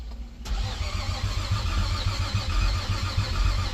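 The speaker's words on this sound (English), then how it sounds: "starter's turning." A Nissan G35 engine, just rebuilt, cranks over with a rapid, rhythmic churning from the starter motor, steady and close, continuing without catching.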